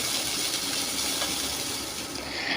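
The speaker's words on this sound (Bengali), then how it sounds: "এবার লঙ্কা কুচিটাকেও একটুখানি ভেজে নেবো" Chopped green chilies frying in hot oil, a steady dense sizzling hiss held at close range without pause.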